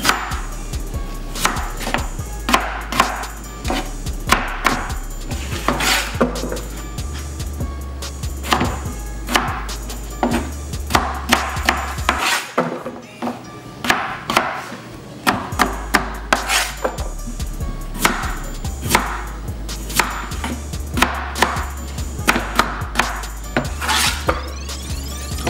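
A knife chops food rapidly on a board in a home kitchen, making steady, close, sharp repeated knocks with a brief pause midway, with no talking.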